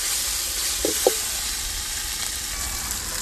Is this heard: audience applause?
no